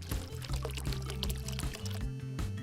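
Hot water pours steadily into a bowl of berry jelly mix in one continuous splashing stream, set against background music.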